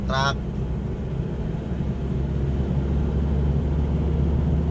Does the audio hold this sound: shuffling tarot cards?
no